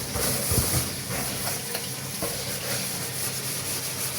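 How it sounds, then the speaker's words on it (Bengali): Kitchen sink being scrubbed and rinsed clean after washing fish, a steady hissing wash of running water and scouring throughout, close and fairly even with a few louder knocks. "যেহেতু মাছ ধুলাম, তাই সিঙ্কটা একটু ভালোভাবে ধুয়ে নিচ্ছি।"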